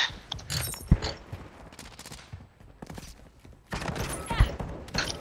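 Shotgun fire in Call of Duty: Modern Warfare II, with two sharp, loud blasts a few seconds apart amid scattered rapid gunfire and other game noise.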